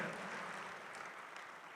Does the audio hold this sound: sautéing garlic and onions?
no